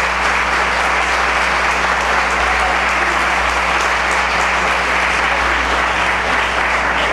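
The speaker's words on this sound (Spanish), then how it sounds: "Fuerte el aplauso para José Constantino González." Dense, sustained applause from an audience at a Colombian music event fills the hall loudly and evenly, steady throughout without pause over a faint low hum.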